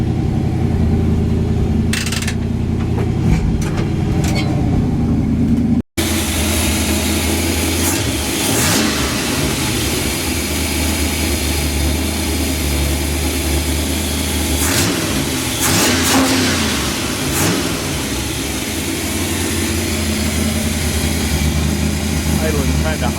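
A 1966 Chevrolet C-10 pickup's engine runs loud and close, idling high with repeated revs rising and falling as the truck backs out, after a brief dropout.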